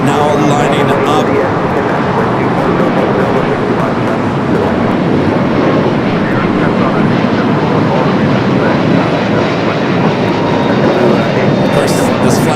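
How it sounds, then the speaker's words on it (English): Airbus A380 jet airliner lining up for departure to Seoul at LAX, a loud steady broadband engine roar filling the whole stretch with talk faintly beneath it. "this flight heading to Seoul in this A380 Super"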